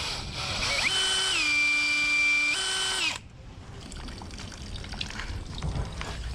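A power drill whines loudly for about three seconds, widening a hole to keep water flowing to a trough in cold weather, then stops, leaving a faint trickle and low background noise.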